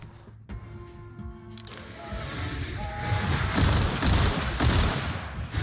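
Gunfire in The Outer Worlds, starting with scattered single shots and tones, then building into dense, loud bursts of repeated shooting and booms.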